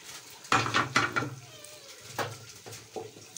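Beef kidneys frying in masala in a pan, heard as a few sharp metallic clanks and scrapes of a spoon against the pan over a soft sizzle.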